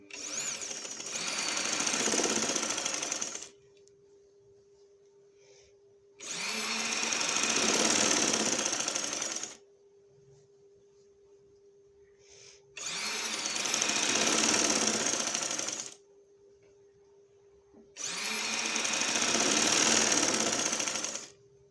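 A sewing machine stitches piping along fabric in four long, steady runs of a few seconds each, separated by quiet pauses, loud and close with no talking.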